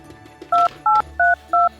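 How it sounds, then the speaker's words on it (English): Four evenly spaced telephone keypad dialing tones beep in quick succession, each a short steady two-pitch tone, loud and clear over faint background hum. "So I'm going to try to call Santa Claus one more time."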